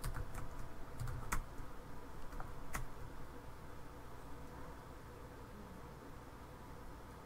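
Computer keyboard typing a Linux terminal command, a quick run of light clicking keystrokes early on, then quieter taps over steady room hiss.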